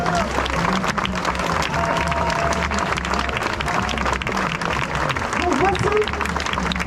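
At a Nice protest by caregivers who lost their jobs, a crowd claps steadily and densely throughout, with voices audible under the applause.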